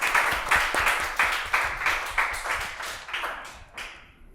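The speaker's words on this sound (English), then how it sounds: "Clap for them." A small studio audience at a school quiz show claps for the contestants in a rhythmic run of about eight close, evenly spaced bursts that gradually fade away, with no talking.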